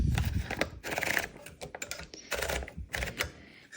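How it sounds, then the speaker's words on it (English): Paper is fed into a 1963 Smith Corona Sterling manual typewriter, giving a close run of sharp mechanical clicks and ratcheting platen turns, with short pauses and no voices. "let me load some paper."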